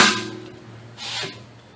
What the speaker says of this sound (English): you turn it counterclockwise and you hit it with a hammer